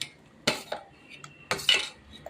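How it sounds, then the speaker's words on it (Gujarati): A spoon stirring ground fenugreek into tamarind rice, giving two quiet clinking scrapes against the dish about a second apart in an otherwise still room. "2 ચમચી નાખીને એને હલાવી દઈએ"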